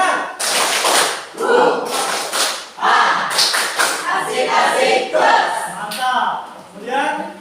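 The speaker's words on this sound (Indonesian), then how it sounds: "Tepuk semangat." A group of schoolchildren in a classroom performs a rhythmic spirit clap, bursts of claps mixed with loud chanting voices in a steady patterned beat, close and energetic throughout.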